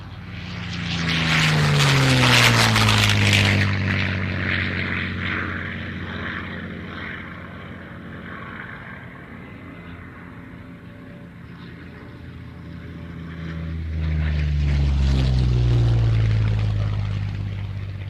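A Messerschmitt 109 propeller fighter passes at an airshow, its engine swelling to a loud roar, fading to a distant drone, then surging again as it sweeps back across the sky.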